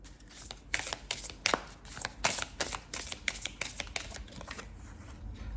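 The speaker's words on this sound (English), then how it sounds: "I'm going to pick one more card from this deck" A tarot deck is shuffled and a card is drawn: quick, crisp riffles and papery slaps come in uneven bursts close by, with no voice.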